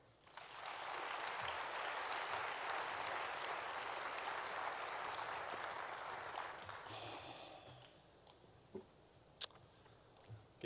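Sustained audience applause welcomes lecturer Jim Frederick to an evening leadership lecture, a dense wash of clapping that holds steady for about seven seconds, then thins and fades into a few scattered claps and small room noises.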